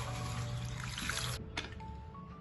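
Water sloshes and trickles as urad dal, poha and chana dal are rinsed together, a soft close pouring sound that cuts off partway through.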